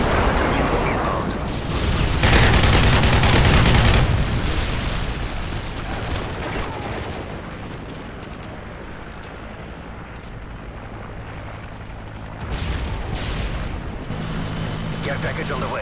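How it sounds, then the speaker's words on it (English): In Modern Warfare 3, an airstrike and Predator missile strikes set off heavy, rumbling explosions and booming blasts that swell and fade over a sustained, loud battlefield din, with radio voice callouts mixed in. "Friendly airstrike on the way. Bravo secure. Friendly Predator missile inbound."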